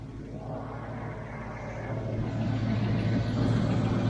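A 1993 Range Rover LSE engine idles under the bonnet during a tappet check, a steady low mechanical hum and rumble that grows slightly louder partway through, with no voices.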